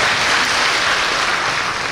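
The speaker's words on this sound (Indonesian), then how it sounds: "Tepuk tangan buat Mas Sofian." A Dhamma-sharing audience claps for Mas Sofian in a dense, even burst of applause that stays loud and unbroken for the whole moment.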